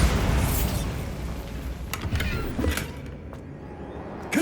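Bombarda explosion spell in Hogwarts Legacy, a heavy booming blast that rumbles and decays, followed by a few smaller pops and creaks as the noise settles.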